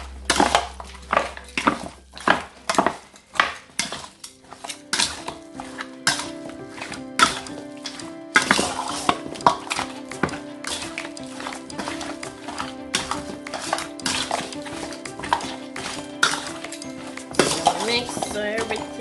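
Jamaican oxtail being mixed with browning in a bowl, with dense clattering and clinking of a utensil against the bowl in quick irregular bursts, close and fairly loud, and a voice briefly in the background.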